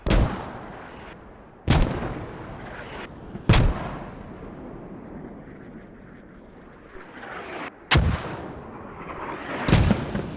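Mortar rounds in a video game battle on the Chora Valley map land as five heavy booms at uneven intervals, each with a long rumbling tail and distant low noise between the hits.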